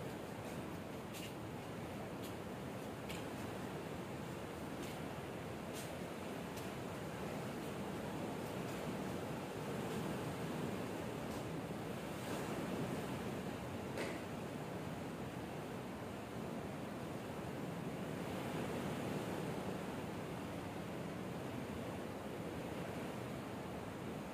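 Ocean waves seen from a ship's deck wash in a broad, steady surf roar mixed with wind buffeting the microphone, with faint clicks scattered through; no voices.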